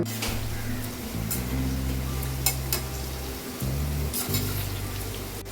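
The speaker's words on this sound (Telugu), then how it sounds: "ఇంకాసేపు ఫ్రై అవ్వాలండి" Bitter gourd slices frying in hot oil in a pan, a steady close sizzle with clinks of a spatula or utensil against the pan and occasional stirring.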